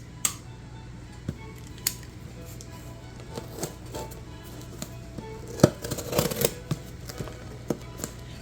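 A taped eBay mail package is torn open by hand, producing close crinkling, scraping and sharp snips of tape and cardboard, scattered in irregular bursts.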